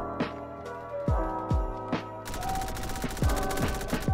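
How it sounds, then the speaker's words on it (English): Rapid gunfire from the Roblox game Energy Assault: a few sharp single shots with ringing tails, then a dense, continuous burst of automatic fire, loud and close, with no talking. "who's shooting at me?"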